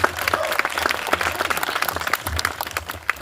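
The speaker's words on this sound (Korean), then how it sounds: "다시 한번 박수 부탁드립니다" An outdoor memorial gathering in Jeju for the Sewol ferry disaster anniversary applauds after a performance, with crisp, fairly close clapping from a modest crowd, steady and lively throughout.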